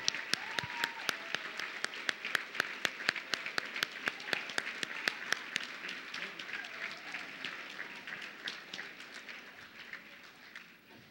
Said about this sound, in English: we would like to have Liam and his family stand so we can give them a big round of applause